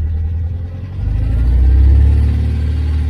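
An Austin Healey sports car with a special engine runs steadily nearby, a low rumbling drone that swells a little after the first second and then holds at an even, loud level.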